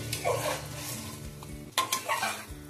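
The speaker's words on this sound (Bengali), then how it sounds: "এবার আমি ভালো করে কষিয়ে নেব চিকেনটা কুকারের মধ্যে।" Chicken is sautéed in a pressure cooker over a medium flame, with a spoon scraping and clattering against the metal pot and soft sizzling under the bursts of stirring.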